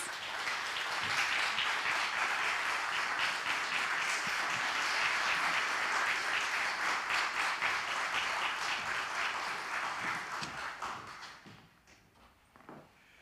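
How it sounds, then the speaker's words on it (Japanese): At a regional revitalization symposium, an audience welcomes a speaker with dense, sustained clapping that holds steady for about ten seconds, then tapers off quickly into quiet room noise. "それでは拍手でお迎えください"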